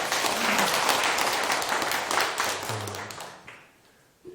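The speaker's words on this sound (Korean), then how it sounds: "박수 한번 치세요" A Korean lecture audience applauding together, steady dense clapping that holds for about two and a half seconds, then thins and dies away near the end.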